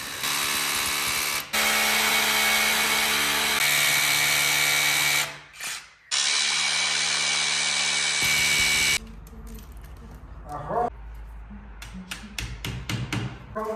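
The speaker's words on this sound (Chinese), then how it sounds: "然后我们可以打孔" A power drill bores anchor holes into a wall with a black latex-painted frame for mounting a thin TV bracket: two long, loud, steady whirring bursts with a short pause between, then quieter scraping and tapping clatter.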